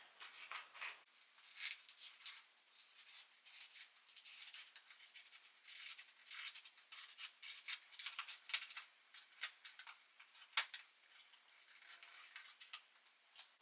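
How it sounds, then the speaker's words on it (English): Scissors cut a red paper envelope along its crease, a faint, soft run of snips and paper rustles with a few small clicks. "Get your pair of scissors and cut it this way."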